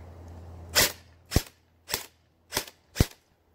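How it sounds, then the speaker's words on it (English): CSI XR5 airsoft pistol firing single shots with an open barrel and unadjusted hop-up, five sharp snapping cracks spaced about half a second apart, close and clear over a faint hum. "let's do the shooting test. So this is single shot"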